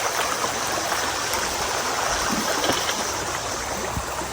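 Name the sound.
creek water flowing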